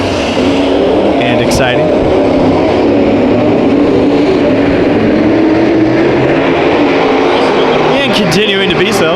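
Modified race cars roaring around the Santa Maria Raceway track during a heat race, a loud continuous engine drone with revving swells and passing cars, under an excited announcer calling the action.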